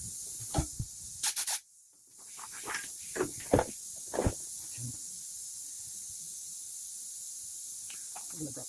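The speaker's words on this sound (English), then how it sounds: "I'm just going to spray that real quick just to make sure we have no contamination in it" Short bursts of cleaner sprayed on a carburetor jet close by, a few quick blasts followed by a steady airy hiss fading into quiet.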